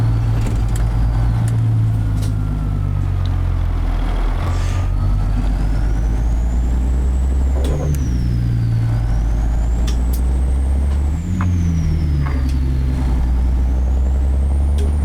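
Truck in American Truck Simulator fitted with a Caterpillar 3406B engine, a steady loud diesel drone with shifting revs and a brief air-brake-like hiss, continuous throughout.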